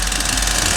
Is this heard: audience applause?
no